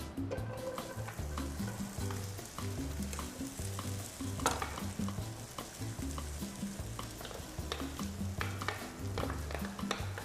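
Corn kernels roasting in a hot pan to give them a smoky taste, with continuous sizzling and frying and repeated scraping and stirring, close up with no talking.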